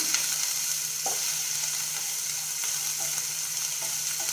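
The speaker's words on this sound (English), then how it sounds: "the peels to soften a little bit. I'm also going to stir them." Shrimp peels fry in a pan with a steady close sizzle while a utensil stirs them, giving a few light scraping taps over the continuous hiss.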